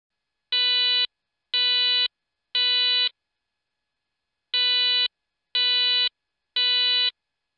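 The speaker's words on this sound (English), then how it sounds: "NFPA 72 U.S. National Fire Codes, Low Frequency Temporal 3, 3 beats, pause, repeat, suitable for fire, smoke detection, and alarm applications." An NFPA 72 low frequency temporal 3 fire alarm tone from a speaker hub sounds as three clean, equal electronic beeps, a pause, then three more, loud and steady.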